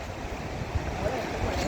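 Strong water rushes and roars steadily at a temple waterfall, a dense, continuous wash heard up close with some wind buffeting.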